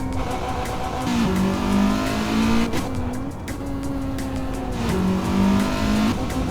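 Simulated Honda Civic 1.6 engine in the Assetto Corsa racing game on a California highway, revving up and down through gear changes with repeated rising pitch sweeps, loud and close, no talk.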